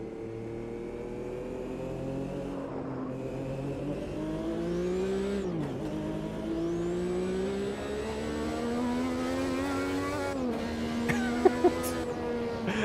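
Turbocharged Gen 3 Formula Retro car in Automobilista 2 pulling through gears: a steady climbing engine drone broken by a few sharp shifts with a thin turbo whistle, then brief popping near the end, close and continuous.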